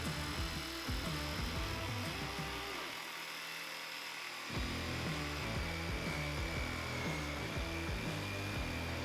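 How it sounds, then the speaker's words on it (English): A jigsaw cuts slowly through wood for a bow and arrow holder, its rapid buzzing strokes pulsing in short bursts and breaking off for about a second midway before starting again. "cut it out with a jigsaw, and we just went nice and slow"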